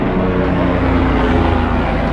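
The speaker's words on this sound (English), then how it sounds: "You can hear the chopper flying over." A helicopter passes overhead in open desert country during a mule deer hunt, a steady, loud rotor and engine rumble that holds evenly through the short stretch with no voices.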